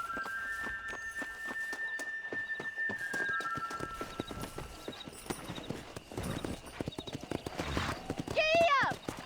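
Horse hooves clip-clopping at a riding pace in the video game Red Dead Redemption, steady rhythmic hoofbeats under talk, ending with a loud neigh near the close.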